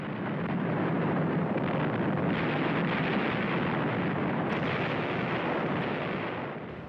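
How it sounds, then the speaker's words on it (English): Naval invasion fleet bombarding the port of Incheon in 1950, a continuous loud rumbling roar of artillery fire and explosions with no talk. "The largest invasion fleet since the Second World War bombards the port of Incheon."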